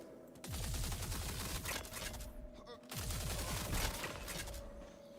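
Bursts of rapid pistol-like gunfire from NPCs in a video game crackle in two sustained volleys, fairly loud, with a short gap between them and no talk over the shots.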